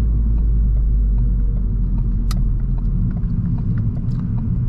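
A 2010s Ford Focus ST hatchback with 270 pound-feet of torque through the front wheels gives a loud, steady engine rumble from inside the cabin, with a few faint clicks and ticks over the drone.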